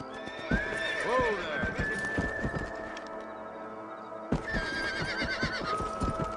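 In Red Dead Redemption, a ridden horse clip-clops with steady hoofbeats and gives a rising, wavering whinny, with voices and other game sounds layered over the trot.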